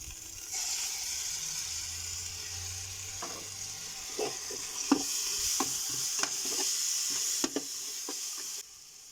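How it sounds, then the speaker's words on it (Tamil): Ginger garlic paste and onions fry together in a pan for white chickpea biryani, a continuous sizzle and hiss with repeated sharp scrapes and taps of a spoon stirring. "வெங்காயம் வணங்கினோடனே இஞ்சி பூண்டு பேஸ்ட்டு சேர்த்துக்கலாம்"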